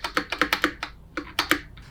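Keystrokes on a Keychron K10 Pro keyboard with PBT keycaps, set up for Mac, in a quick close-up run of crisp clacks with a brief pause before a few more, with no voices.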